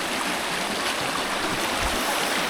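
A clear, shallow river stream flows steadily and close by, a continuous broadband rush of moving water with no voices over it.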